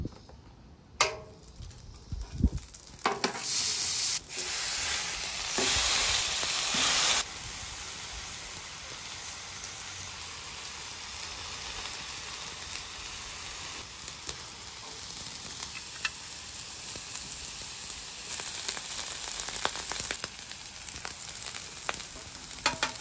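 Fried rice crackles on a hot griddle in a long, steady sizzle, loudest in the first seconds with sharp bursts, then settling into a continuous close hiss with light scraping.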